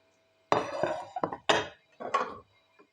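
Plates and dishes handled in a kitchen, a few sharp clinks and clatters of crockery knocking together in separate bursts, close and fairly loud, with no talking.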